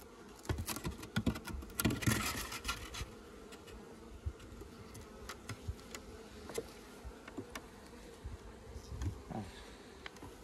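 Bees hum and buzz in a low, continuous drone at an open hive during a late-season queen change, with scattered clicks and taps from frames being handled close by; no talking.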